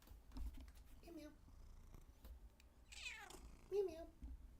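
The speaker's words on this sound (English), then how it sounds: "I'm gonna see if he'll meow into the mic here." A pet cat gives a couple of short, faint meows close to a microphone at a quiet home desk, with soft keyboard-like clicks and a man coaxing it between sounds.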